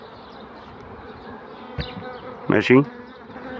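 Honey bees hum softly around an open beehive being checked before honey extraction, a low steady buzz with a brief closer buzzing pass and a short thump near the end.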